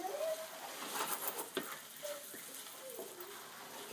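Lentils stirred into a sizzling Indian spice base in a pot: a steady frying hiss with soft scraping and stirring strokes, close and moderately quiet.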